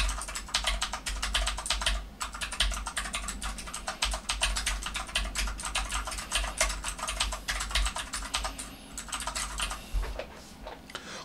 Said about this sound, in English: background noise keyboard test with the AmpliRocket